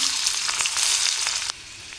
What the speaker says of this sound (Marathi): तेल गरम झाले, जिरे टाकून घ्यायची सुरुवातीला। हळद थोडीशी, लसूण पाकळ्या 5-6 टाकून घ्यायच्या।